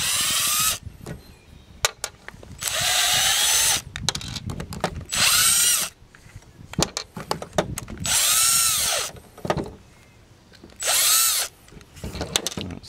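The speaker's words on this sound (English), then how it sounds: "We're gonna back these screws out that hold all this" A power driver backs screws out of the handle assembly on a 52cc GRM520 multi-function brush cutter, with five bursts of loud whirring separated by clicks, taps and handling noise.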